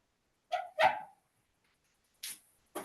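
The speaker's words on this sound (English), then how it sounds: "I hear someone's dog, I think." Dog barking in the distance behind an indoor meeting, two quick barks close together followed by two more spaced out, each short and moderately loud against a quiet room.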